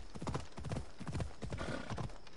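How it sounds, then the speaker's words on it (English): A horse galloping in the video game Assassin's Creed Odyssey, with steady, rapid hoofbeats in a continuous clip-clop rhythm, fairly quiet and alone without talk. "Just watching my horse run."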